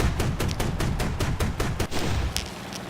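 An aircraft's nose-mounted gun fires in War Thunder gameplay, a loud burst of rapid regular shots about five per second over a constant engine drone, then the firing stops and a few scattered clicks follow.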